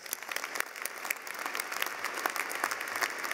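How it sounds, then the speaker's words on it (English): Applause from the audience at a Georgia State University winter commencement ceremony: a dense, even patter of many hands clapping at moderate distance, continuing steadily throughout. "let's also give them a round of applause."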